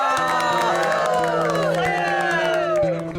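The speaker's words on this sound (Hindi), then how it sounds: "तालियां।" An audience cheers and applauds with excited whoops and shouts. The lively crowd stays loud and close throughout, with a brief dip at the very end.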